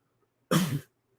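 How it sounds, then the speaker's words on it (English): A single short, harsh cough sounds close by, alone against near silence. "I'm still going to be coughing a little bit."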